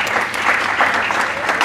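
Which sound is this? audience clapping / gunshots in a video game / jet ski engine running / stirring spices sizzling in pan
audience clapping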